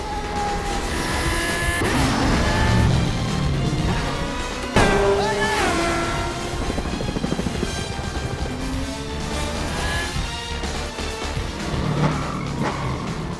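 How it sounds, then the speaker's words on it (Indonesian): A sports car races through a film chase scene, engine roaring and rising in pitch with tire squeals and passing whooshes over a dense, loud mix that carries on for several seconds. "Frank yang melihatnya bergegas mengejar Gianni dengan mengendarai sebuah mobil sport."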